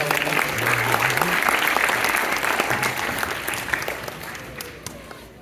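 An audience at a science fair presentation applauds after a demonstration. The clapping is loud and dense at first, then gradually fades, with a few stray claps near the end.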